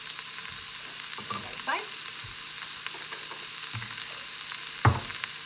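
Cauliflower browning in an Instant Pot, a soft steady sizzle with faint scattered clinks and stirring scrapes, one sharper knock near the end, under a brief spoken phrase.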